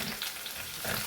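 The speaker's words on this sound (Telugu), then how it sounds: "అల్లము ఎల్లిపాయలు వేసానండి, అలాగే కరివేపాకు వేసానండి." Ginger, garlic and curry leaves fry in hot oil, giving a steady close sizzle that swells slightly near the end, with no voices.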